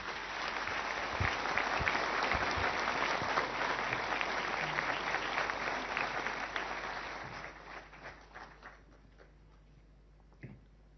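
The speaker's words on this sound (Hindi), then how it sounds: "जोरदार तालियों के साथ स्वागत कीजिए माननीय प्रधानमंत्री श्री नरेंद्र" An audience applauds loudly to welcome Prime Minister Narendra Modi at a navy innovation and indigenisation seminar, a dense sustained wash of clapping that thins and fades out over the last few seconds.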